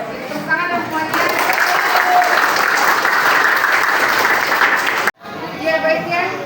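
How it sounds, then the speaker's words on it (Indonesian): Classroom applause from a group of students, steady dense clapping that swells and holds for several seconds, breaks off abruptly, then resumes more thinly with a voice speaking over it. "Tepuk tangan dong semuanya."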